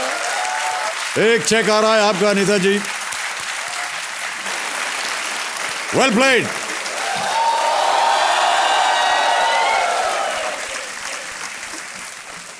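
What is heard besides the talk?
studio audience applause on quiz show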